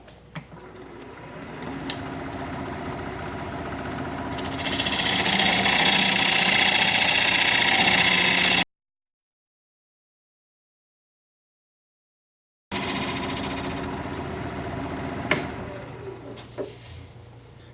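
A wood lathe spins a maple tenon, a steady motor hum that swells louder with a rough cutting hiss partway through, then stops and resumes later in the clip.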